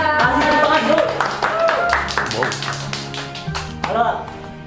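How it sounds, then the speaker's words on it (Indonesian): Clapping from an audience mixes with talking voices and background music, the claps quick and irregular. "Kasih tepuk tangan dulu."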